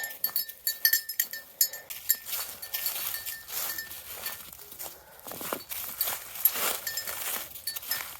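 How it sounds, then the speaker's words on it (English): Goats on a frosty farm give repeated short bleats, close and fairly loud, mixed with footsteps crunching over frozen ground and brief low voices. "All right, little goats."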